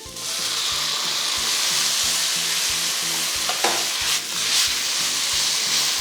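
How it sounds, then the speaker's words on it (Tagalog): Chicken pieces frying with garlic in a hot pan for chicken fried rice, a loud continuous sizzle with rhythmic stirring scrapes, close up and without talk. "Lutuin mo lang itong chicken hanggang sa mag-light brown na yung kulay."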